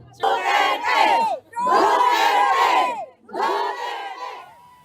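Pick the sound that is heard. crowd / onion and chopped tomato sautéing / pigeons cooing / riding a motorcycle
crowd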